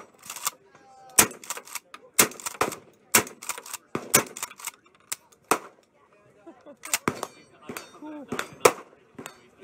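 A KelTec CP33 .22LR pistol fires a string of sharp, loud shots outdoors, spaced irregularly with a few quick pairs and a gap in the middle. A voice speaks briefly between shots.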